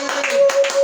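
Church congregation clapping to acclaim the Lord during a sermon, a short burst of dense, steady applause with a sustained tone running underneath.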